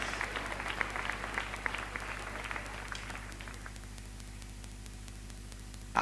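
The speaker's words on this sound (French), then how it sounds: "Ils m'applaudissent alors que c'est pas insurmontable." Applause in a video game plays as a faint, thin patter of clapping over steady hum and static, fading out gradually over several seconds.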